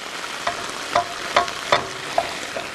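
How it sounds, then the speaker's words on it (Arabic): Vegetables frying in butter in a pan, sizzling steadily while being stirred, with five or six louder scraping stirs at a regular pace. "حناخد شوي من الزبدة لنقلي فيها الخضرة"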